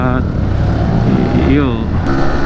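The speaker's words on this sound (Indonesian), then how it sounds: "Oh, mobil lewat." A car passes in slow, congested traffic, its engine hum rising and falling under a nearby motorcycle's idle while a person talks over it.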